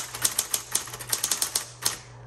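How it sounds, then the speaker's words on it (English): Keys clatter on a 1960s Smith Corona Coronet Automatic 12 electric typewriter, a quick irregular run of sharp close strikes over a steady motor hum, alone without talk. "let's say you're just typing and you want to change it, you hit backspace"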